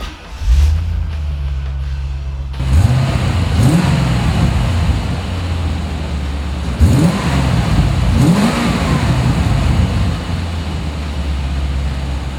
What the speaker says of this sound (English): So I'm gonna go ahead and start it and tell me what you think.